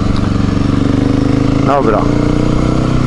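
Motorcycle engine running steadily at close range, a loud continuous mid-pitched drone with a brief spoken word over it.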